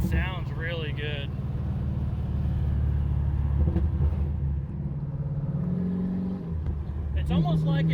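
A 1967 Pontiac GTO engine rumbles steadily from inside the car while driving, a deep continuous drone under people talking, with a shift in pitch partway through.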